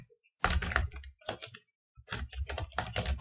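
Keys clatter in quick, uneven bursts as code is typed on a computer keyboard, close and clear, with short pauses between flurries.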